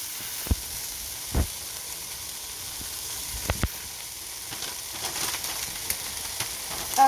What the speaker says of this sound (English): Ooh, that's sizzling.